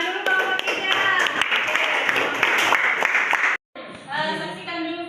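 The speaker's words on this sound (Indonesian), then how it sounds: "Tepuk tangan dulu kelompok 3." Classroom applause for a student group: a dense burst of many hands clapping close by for a few seconds, then a short pause and lighter scattered claps mixed with voices.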